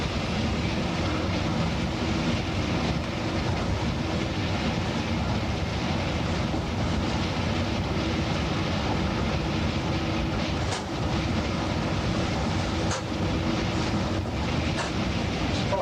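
A 1989 Class 205 diesel-electric multiple unit runs between Hastings and Ashford on long welded rails, giving a steady, loud interior rumble with a few faint clicks and no talk.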